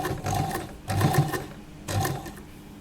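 A sewing machine stitching a lehnga runs in three short, close bursts, its mechanical whirr and clatter pulsing with brief slowdowns between, no voices over it.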